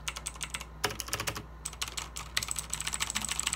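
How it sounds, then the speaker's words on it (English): Typing on a Redragon Kumara mechanical keyboard with blue switches, a close, quiet run of sharp clicky keystrokes in bursts with brief pauses, over a low steady hum. "Hear that? Blue switches."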